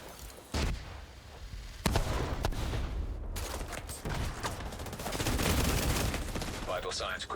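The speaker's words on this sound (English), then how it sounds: "Double mortar." Mortar and artillery fire in a shooter game, heavy booming blasts and rapid gunfire layered into a loud, continuous barrage, with a short gap before the noise swells again.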